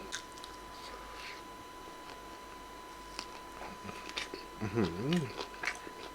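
KFC fried chicken dipped in barbecue sauce being bitten and chewed close up, with soft crunchy bites and wet chewing and a voice heard between them.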